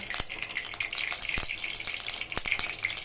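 Steady crackling sizzle of hot oil in a pan, bright and continuous with occasional sharper pops, close up and moderately loud.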